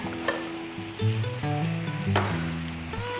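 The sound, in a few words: onions sizzling on a Blackstone griddle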